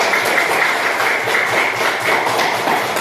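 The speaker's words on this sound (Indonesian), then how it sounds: "tepuk tangan untuk kita" Schoolchildren in a classroom clapping together, a dense, even patter of many hands that carries on without a break for the whole stretch, close and fairly loud.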